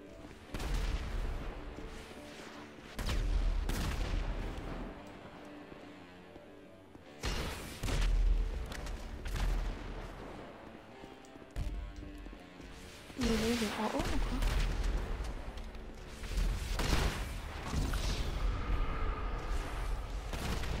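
A minigun and other weapons fire in a GTA 5 rivalry match, with bursts of rapid gunfire and booming blasts spread through the clip, heard under excited talking players.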